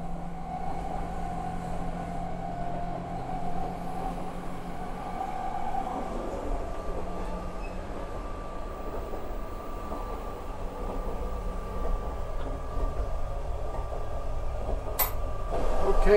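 Quiet, steady hum and low rumble of a JR Super Hakuto limited express train in rural Japan, heard from inside a nearly empty carriage, with a faint rising whine near the end.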